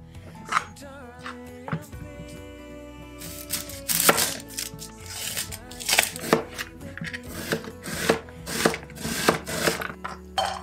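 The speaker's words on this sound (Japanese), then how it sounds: "最初に玉ねぎ切って 肉に下味をつけたいと思います" A kitchen knife chops onion on a cutting board while preparing Korean glass-noodle japchae, giving irregular close thuds and slicing taps under soft background music.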